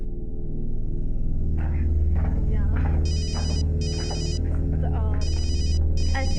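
A telephone rings in repeated double bursts of bright electronic trilling, heard over a background of talk and a low, steady hum.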